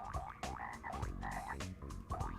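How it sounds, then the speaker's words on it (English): Frog croaking in a Frogger video game prototype, a rapid series of loud rhythmic croaks repeating in pulses over a backing game tune. "He's croaking when I pause."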